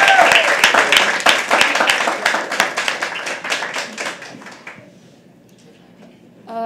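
Audience clapping at a live poetry open mic, dense applause from a room full of people that stays strong for several seconds, then thins out and fades to near quiet.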